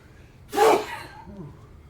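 A single short, sharp sneeze close to the microphone, followed by a brief breathy tail and quiet background.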